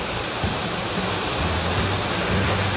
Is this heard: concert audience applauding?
no